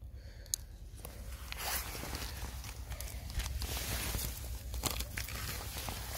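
Crackly ripping and peeling sounds, the backing torn off adhesive bitumen roofing felt for flashing a chimney, in several short pulls, close by against a faint low background hum.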